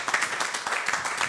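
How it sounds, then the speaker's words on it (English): Applause from an audience at a science prize press conference in Nigeria, dense and steady for about a second and a half at moderate level, with no clear voices over it. "A round of applause for"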